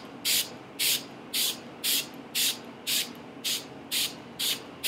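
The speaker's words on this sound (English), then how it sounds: "So I'm just going to take it and kind of just spray it all over my face." Makeup setting spray mists onto a face in ten quick, evenly spaced hissing bursts, each about a quarter second long, close and crisp with quiet room noise between.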